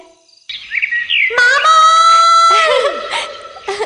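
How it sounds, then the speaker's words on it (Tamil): Mobile phone ringtone made of chirping bird song plays loudly and alone, with warbling, whistled trills that rise and fall across several phrases. "அடி பாவி, மைனா தம்பிராமையா ரிங்டோனை வச்சு சாவடிக்கிறாள"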